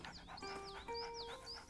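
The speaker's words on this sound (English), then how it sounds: "Press Y to pet the dog" A dog panting steadily while being petted in the medieval video game A Plague Tale: Innocence, rhythmic quick breaths mixed with soft game music tones, fairly quiet.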